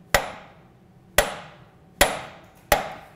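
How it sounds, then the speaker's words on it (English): A brass or copper hammer taps a cone into its seat during an ignition and charging system install on a BMW R60/2 motorcycle, four crisp metallic strikes spaced about a second apart, close and clear with quiet between them. "So something like a brass or copper hammer, something that's not gonna mar anything."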